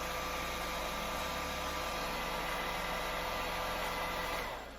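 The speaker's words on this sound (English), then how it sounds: "And then it just hooks to a blow dryer. Turn it on." A steady, broadband whooshing hum of a hooded blow dryer runs continuously, fairly loud and close, then tapers off slightly at the very end.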